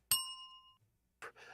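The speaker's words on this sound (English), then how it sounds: "Where's my bell?" A single bright bell strike rings close and clear, then fades over about half a second; a short muffled rustle follows after a pause.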